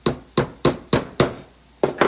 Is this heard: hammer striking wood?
yes